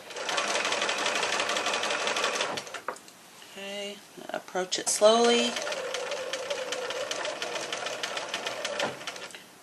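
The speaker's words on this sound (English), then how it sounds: "There's no wrinkles under my sewing machine needle." A sewing machine stitches a large market bag's handle in rapid, steady runs, then pauses for a few halting single stitches and a brief clatter before resuming its fast whir. A voice speaks over it briefly.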